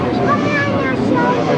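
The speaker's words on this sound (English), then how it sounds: "Already the revs are up and you can see that we've got away with the start of the sidecar final." Sidecar outfits roaring away together at the start of an A final at an East Kent grasstrack meeting, a dense, loud blend of revving engines with a commentator talking over it throughout.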